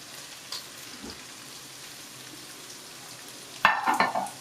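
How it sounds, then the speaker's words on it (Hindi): Vegetables go into a hot pan for chicken fried rice: a soft, steady sizzle hisses quietly, then a sudden louder burst of crackling and stirring erupts near the end. "अब मैं सारी सब्जियां इसके अंदर डाल दूंगी।"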